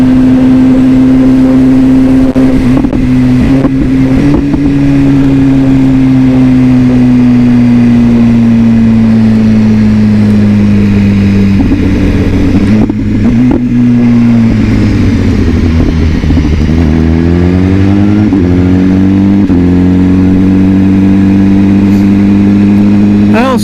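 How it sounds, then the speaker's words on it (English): A BMW sport motorcycle engine drones under load as it's ridden, pitch rising and falling with shifts and throttle, steady and prominent throughout. "I love the sound of this bike"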